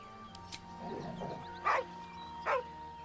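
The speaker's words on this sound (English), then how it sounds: "Poor dog." A dog in the video game Baldur's Gate 3 gives two short yelping barks with soft whimpering, fairly quiet behind game sounds and a steady hum.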